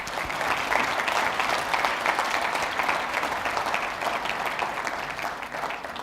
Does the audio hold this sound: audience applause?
yes